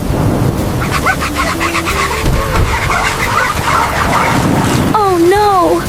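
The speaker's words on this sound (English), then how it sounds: "We wait here until the storm slows down." Steady thunderstorm with rain, a continuous broadband rumble and downpour throughout, with a tonal wavering sound rising near the end; voices speak over the storm.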